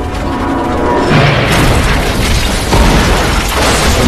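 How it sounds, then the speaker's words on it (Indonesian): A plane crash explosion: a loud, sustained rumbling blast with crackling debris, a heavy explosion that keeps roaring for several seconds without letup. "sayap pesawatnya terkena tembakan, menyebabkan pesawatnya hilang ketinggian dan menghantam daratan dengan tajam"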